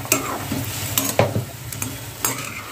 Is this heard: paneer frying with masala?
yes